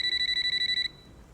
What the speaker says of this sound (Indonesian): handphone Vasu berdering